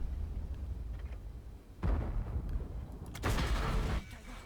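Tank cannon fire in a World of Tanks-style game, a premium HE round from an M40 gun: two heavy booming blasts about a second and a half apart, each with a rumbling tail over low background noise.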